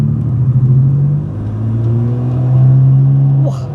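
A Mercedes-Benz car engine revs up and settles, a loud, steady exhaust rumble with rising and falling pitch, close by.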